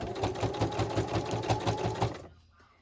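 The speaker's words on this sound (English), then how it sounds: "So I'm just going to straight stitch around here." A sewing machine runs a straight stitch around a small handmade Easter mini journal, a rapid rhythmic mechanical clatter close by that stops abruptly near the end, leaving near silence.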